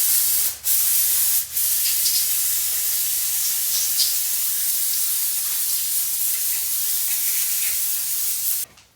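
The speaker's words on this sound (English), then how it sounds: "there's a full can of brake clean on there and a blaster off with compressed air" Brake cleaner and compressed air are blasted over the fuel injection pump of a 12-valve truck engine. A loud continuous hiss runs almost the whole time, broken by two short pauses early on, and stops abruptly at the end.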